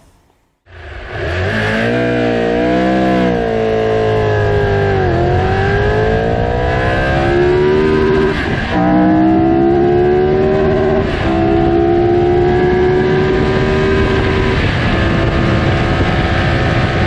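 A Triumph Tiger 1200 Rally Explorer engine starts up close by on its stand and revs repeatedly, its pitch rising and falling, then settles into a loud steady run.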